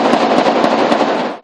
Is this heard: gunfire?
yes